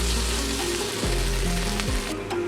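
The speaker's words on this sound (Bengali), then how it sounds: "ভালো করে আমি ভেজে নেব।" Ginger paste frying in hot oil for a katla fish curry, a loud, steady close sizzle with a low hum running beneath it.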